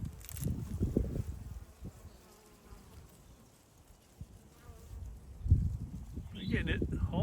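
Honey bees buzz at a spring-cleaned hive, a soft, continuous insect hum with low rumbling bursts close to the microphone.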